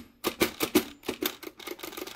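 A 1925 AEG Mignon 4 index typewriter clacks through a quick run of sharp, close strikes, about a dozen in two seconds, the early blows heavier and the later ones lighter, with no voice over them.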